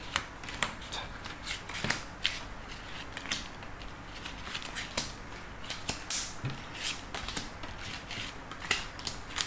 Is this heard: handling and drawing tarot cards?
yes